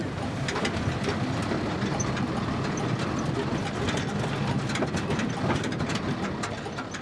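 Old truck engine droning steadily as the vehicle travels a rough, rutted dirt road, with constant low rumble and scattered rattles and knocks from the bodywork throughout, no talk.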